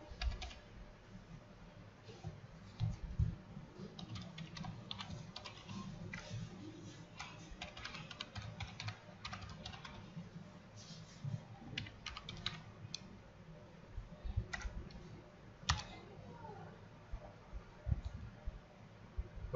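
Fingers typing on a computer keyboard, entering a web address into a browser: quiet, irregular bursts of clicky keystrokes with short pauses, close and alone with no talk.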